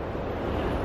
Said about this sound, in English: You'll probably just hear the ocean.